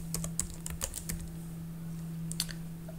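Quiet clicks of typing on a computer keyboard come in short irregular bursts, near but soft, over a faint steady electrical hum.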